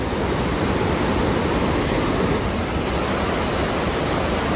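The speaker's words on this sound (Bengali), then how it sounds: "নিচ থেকে নদী যাচ্ছে দেখা যাচ্ছে না কিন্তু শব্দ শোনা যাচ্ছে নদীর আওয়াজটা আরও বেশি গভীর হচ্ছে" An unseen river flows below a forest path, giving a steady, dense rushing roar that stays constant and fills the whole scene without pause.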